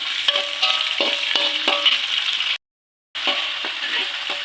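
Rice vermicelli with mustard greens and carrots is stir-fried in a pan, giving a close, steady sizzle with rhythmic scraping and tossing knocks from the utensil, broken by a brief silent gap.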